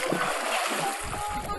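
Someone jumping into an outdoor swimming pool in Arizona, a brief close splash followed by churning, sloshing water.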